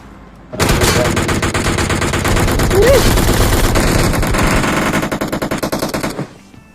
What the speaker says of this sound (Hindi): ये ऊपर हो रही है गोलीबारी, हम लोग पे ही चला रहे हैं